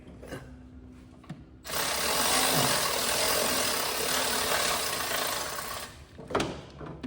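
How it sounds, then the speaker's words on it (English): A power ratchet or driver whirs steadily for several seconds while the top comes off a Cub Cadet ZT1 mower deck. Faint clicks and handling knocks come before and after it. "take the top off with a ratchet"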